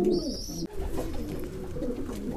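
A loft full of young pigeons gives off soft, rolling coos that rise and fall for a couple of seconds, with a brief thin tone at the start and a short break midway.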